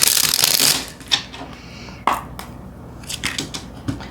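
A tarot deck is shuffled by hand: a loud, crisp riffle of cards up front, then a few sharp card snaps and soft slides follow close by.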